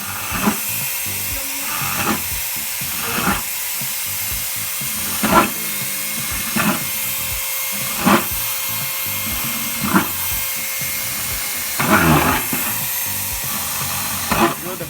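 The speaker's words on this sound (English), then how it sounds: "Drill the holes in the bottom" A steady whining drill runs throughout, with short louder bursts every couple of seconds as the bit bites through the thin plastic bottom of a container.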